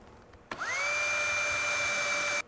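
A power drill starts abruptly and whines at a steady high pitch for about two seconds, drilling into a plastic lid, before cutting off, loud and close.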